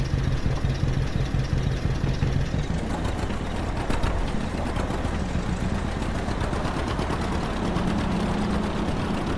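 A John Deere A tractor idling on a farm in Farming Simulator 22, a steady low chugging engine note running evenly and close throughout, with no voices.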